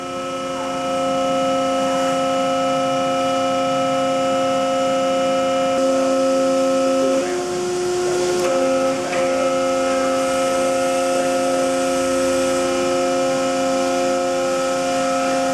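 A 1000-ton Lawton compression molding hydraulic press runs its auto cycle, giving a loud, steady industrial hum with strong tonal whine throughout and a brief shift in the mechanical noise midway.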